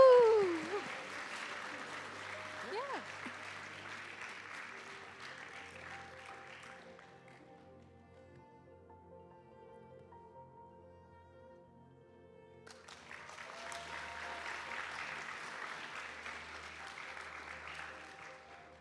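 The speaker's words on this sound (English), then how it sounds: "so we're just gonna clap anyway." Audience clapping at a conference, with a cheer at the start, then a quieter lull before a second burst of clapping from a seated crowd.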